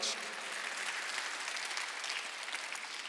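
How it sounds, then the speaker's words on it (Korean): Church congregation applauding during a Sunday worship service, a steady, dense wash of clapping from many hands that holds evenly for about three seconds with no voices over it. "박수 한번 더 주시기 바랍니다."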